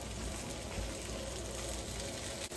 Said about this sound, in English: He is doing some sauteing of the sausages, just to turn them over, trying to make sure they get evenly cooked